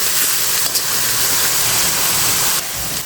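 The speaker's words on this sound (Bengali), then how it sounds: "দেখো বন্ধুরা রসুন পেঁয়াজটা আমার হালকা বাদামি বাদামি কালার আসছে" Garlic and onion sauté in oil in a large wok for jute greens, giving a steady loud hiss that runs without a break and eases slightly near the end.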